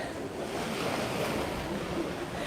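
Sea waves wash steadily at Puerto Pollensa, Mallorca, a soft continuous surf hiss with light wind, faint and even throughout.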